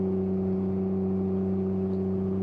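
A Can-Am Ryker three-wheeler fitted with a Two Brothers S1R exhaust drones steadily and loudly on a road trip, its engine note holding an even, unbroken hum with no voices.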